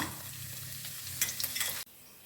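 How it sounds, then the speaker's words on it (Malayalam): Ginger, garlic and dried red chillies crackle and sizzle in hot oil while being stirred in a pan for a homemade mixture snack. Scraping stir strokes sit on top of the sizzle, which cuts off suddenly near the end. "ഇനി ആ എണ്ണയിലേക്ക് ഇഞ്ചി വെളുത്തുള്ളി വറ്റൽ മുളകും കൂടെ മൂപ്പിച്ചെടുക്കാം"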